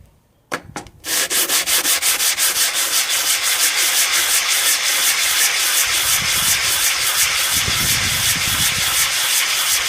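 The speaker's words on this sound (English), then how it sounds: "This stone is tearing up the sandpaper more than the sandpaper's tearing up the stone." A synthetic sharpening stone is lapped back and forth on sandpaper, making a loud, rapid, evenly rhythmic rasping of steady strokes after a few brief scrapes at the start, close up and without talking.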